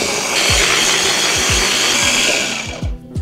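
A blender roars loudly up close, grinding venison bulgogi marinade ingredients steadily with repeated low thumps as it chops, then cuts off abruptly in short bursts at the end.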